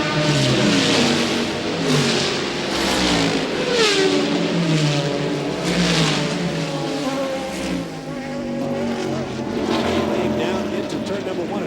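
Race cars at the 1999 Sebring American Le Mans round, including a brand-new Audi R8R and a BMW, accelerate hard at a restart, a loud, continuous layered engine roar with rising revs from several cars passing close, under a commentator's voice.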